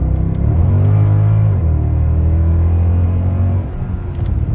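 A Mercedes-Benz CL63 AMG with a 6.2-liter engine pulls hard under throttle, a loud deep engine drone holding steady, dipping briefly as it shifts, then carrying on strongly before easing off at the end.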